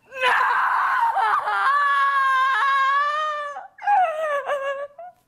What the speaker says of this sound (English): Listen as she tries one scream with the word no.